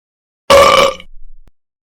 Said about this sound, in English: how dare you burp in class?